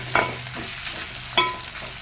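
Turmeric, chilli powder and tomato frying in a pan for palak paneer curry, with two sharp spatula scrapes over a low sizzle.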